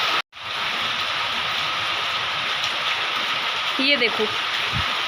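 Heavy rain pours down in a dense, continuous roar throughout, with a person speaking briefly near the end.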